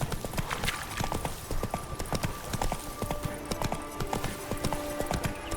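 Horse hooves clip-clop steadily through The Witcher 3, a continuous rhythmic trot of sharp knocks close by, with faint game ambience underneath and no talk.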